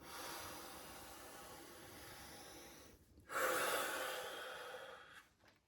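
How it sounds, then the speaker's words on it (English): Slow nasal breathing during a bellows-breath (Bhastrika) practice, a soft airy inhale-exhale hiss that swells and fades, with a brief pause before a stronger breath, close and quiet with no talk. "Normal breathing in and out through the nose."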